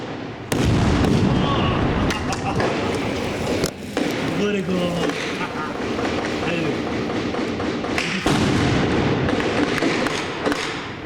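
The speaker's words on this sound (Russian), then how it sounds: "Танк поддерживает действия пехоты, обстреливая корпуса подконтрольные боевикам." Heavy gunfire and blasts from a tank shelling militant-held buildings in Jobar, Syria, during a combat clearing operation, with sharp loud bangs and cracks breaking through continuous rumbling battle noise, and voices occasionally heard beneath.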